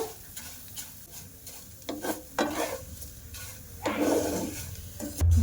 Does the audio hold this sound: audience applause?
no